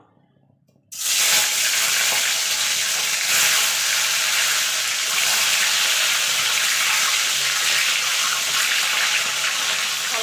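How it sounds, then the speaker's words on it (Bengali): Eggs dropped into hot oil in a pan for a Bengali cauliflower and potato egg curry burst into loud, steady sizzling after a second of near silence, then hold a bright, even crackle to the end. "তেলটা গরম হয়ে গেছে প্রথমে আমি ডিমগুলোকে ভেজে নেবো"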